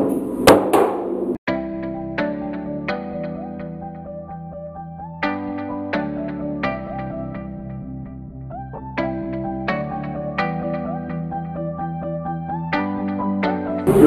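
Metal roof panel of a 1971 VW Beetle (Fusca) being hammered over a half-moon dolly: sharp, close, ringing clangs in an uneven series of a dozen or more strikes, each leaving a brief metallic resonance.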